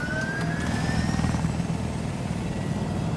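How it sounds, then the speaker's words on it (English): An attack helicopter in the Battlefield video game produces a steady, loud engine drone. A rotor throb sits underneath, and a high turbine whine slowly rises over it. "Alright, I'm gonna attack helicopter now."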